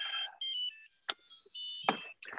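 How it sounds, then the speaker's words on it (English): A drone controller gives off a series of bright electronic beeps in repeated tones with pauses between them, close and clear, with a few soft knocks and clicks mixed in and no voices. "And the controller is beeping at me here,"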